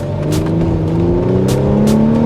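A Mercedes SLK 350 roadster engine roars at high revs under full throttle, its pitch climbing steadily toward 5,000 rpm, loud and close, with no talking.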